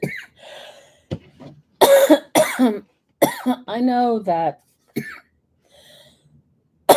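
Several harsh coughs burst out close to the microphone, mixed with a person speaking briefly in between.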